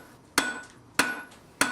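Blacksmith hammer striking hot metal squarely on an anvil: three sharp, loud, ringing blows at an even pace about six-tenths of a second apart, each with a brief metallic ring, no talking.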